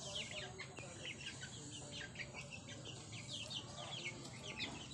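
Birds chirp and call busily around a small farm, with chickens clucking and ducks among them over a steady outdoor background.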